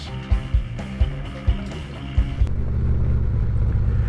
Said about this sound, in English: we're giving this Spitfire Rosso a little run just to see how it feels, how it sounds